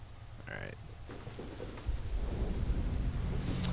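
Steady rain hisses through a night scene in the video game Deadlight, with a low thunder rumble swelling about halfway through and lingering under the downpour.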